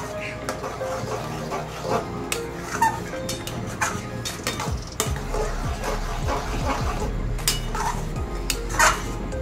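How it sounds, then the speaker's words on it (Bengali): Green mango jelly pickle being stirred in a pot, with irregular spoon clinks and scrapes against the metal over a steady low background hum. "মিনিট 15-20 সময় ধরে আমি এটাকে নাড়াচাড়া করলাম।"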